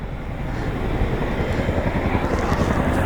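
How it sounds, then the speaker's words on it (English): A massive military airplane passes overhead outdoors, a loud, steady, broad roar of engines that swells slightly and fills the whole stretch with no talk. "Look at that massive army plane up there."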